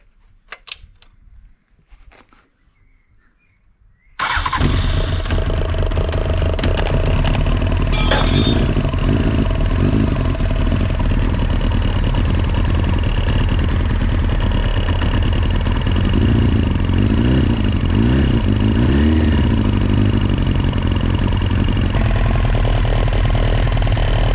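After a few quiet seconds of small clicks, a motorcycle engine fires up during a roadworthiness inspection and settles into a loud, steady idle that runs on close by.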